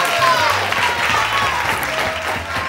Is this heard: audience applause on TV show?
yes